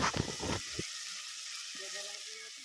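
Masala crackles in mustard oil in a pan with a loud close sizzle at first, then cuts off abruptly into near silence with faint background noise.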